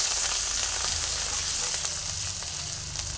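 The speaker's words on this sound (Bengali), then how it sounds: "একটু ভেজে নিচ্ছি আদাটা তেলের মধ্যে দিয়ে।" Steady, continuous sizzle of grated ginger frying in hot oil in a pan, close and fairly loud, with no voices over it.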